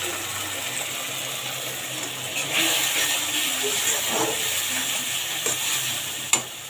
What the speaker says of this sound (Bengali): মশলাটা আমি ভালো করে 5 মিনিট কষিয়ে নেব।